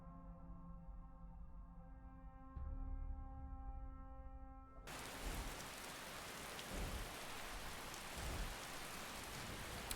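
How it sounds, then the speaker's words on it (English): In Skyrim at the ruins of Rakant, a tonal drone fades out and a steady, heavy downpour of rain takes over, a dense hiss that continues evenly to the end. "Also, it's raining."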